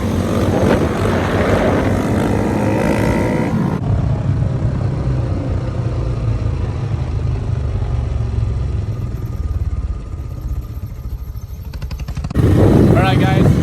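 A motorcycle engine drones loud and steady during a no-throttle-hand wheelie, its pitch holding through a long stretch before the roar swells again at the end, with a voice audible near the start and finish.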